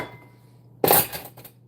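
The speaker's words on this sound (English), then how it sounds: "So I can wash them more easily." Dishes being handled and arranged in a kitchen before washing, a short burst of clinking crockery and utensils rising after a quiet pause, then a few softer knocks.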